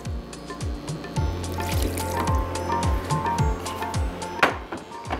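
Water is poured into a pot of jhangora millet cooking with biryani masala, giving a gurgling, glugging stream with repeated bubbly pulses, close and moderately loud, with no speech.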